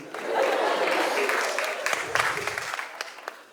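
A comedy-show audience applauds in a sustained wash of clapping, fairly loud and dense, thinning into scattered claps toward the end.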